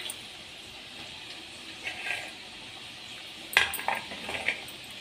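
Fried potatoes lifted from a kadhai of hot oil make a few light metallic scrapes and clinks, faint at first, then a sharper cluster of utensil contacts near the end over a soft background.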